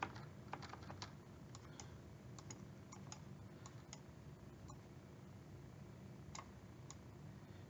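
Scattered computer keyboard presses and clicks sound faintly and irregularly over a quiet, steady room hiss, with no talking.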